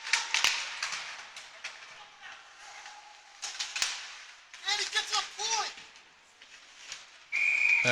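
A referee's whistle blows at an amateur ice hockey playoff game between the Sharks and Apple Core, short shrill tones among rink clatter, stick clacks and crowd noise, with a sustained blast near the end.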